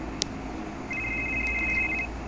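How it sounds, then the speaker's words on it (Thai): A telephone rings in the Roblox horror game Return to Sender, a thin high electronic ring lasting about a second over a constant low ambient hum and faint clicks. "เสียงโทรศัพท์"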